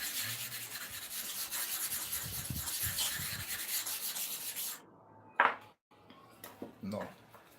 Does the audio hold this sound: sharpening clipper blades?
yes